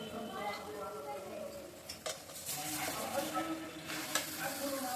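Rice tipped into a pan with spices sizzles and fries as a utensil scrapes and stirs against the metal, with sporadic clinks over a soft steady hiss, fairly quiet.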